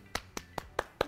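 Audience at a comedy show clapping, five sharp, evenly spaced claps ringing out alone, fairly faint and close.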